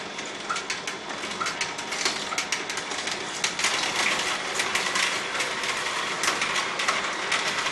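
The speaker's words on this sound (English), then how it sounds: "let's get some grapes juiced here so you can see what the results are with these" An Omega VRT330 juicer presses grapes, giving a dense, continuous mechanical grinding and crackle with rapid irregular ticks, loud and close throughout, no talking.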